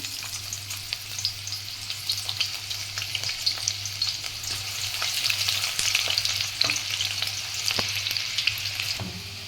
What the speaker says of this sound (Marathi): आता हे फोडणीमध्ये मी कांदा घालून घेते